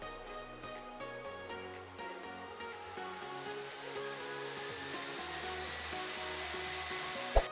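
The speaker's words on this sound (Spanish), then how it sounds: "os lo he grabado en vídeo y como veis sube tranquilamente 10, 15 y hasta 20 decibelios cuando el ventilador sopla bien" Cooling fan of a small home server running under heavy load, a powerful processor in a compact case, blowing as a steady whooshing drone that swells gradually and is close and continuous, with no speech.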